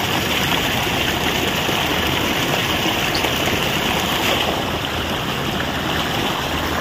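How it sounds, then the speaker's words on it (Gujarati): Irrigation water runs steadily down a slope through a wheat field in a village, a loud, unbroken rushing wash with no voices. "ઢાળ છે ને એટલે પાણી જાય મારું ભાઈ ઘા."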